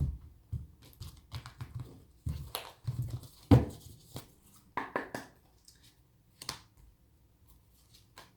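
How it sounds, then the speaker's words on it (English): Soft, irregular papery riffles and taps as tarot cards are shuffled, close by and fairly quiet, a few bursts of shuffling with short pauses between them. "I'm just doing a couple shuffles on camera."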